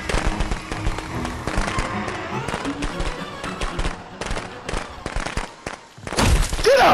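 Rapid strings of firecrackers pop and crackle in the video game Friday the 13th: The Game, a dense burst of sharp bangs that thins out midway, then surges again loudly at the end, with no talking over it.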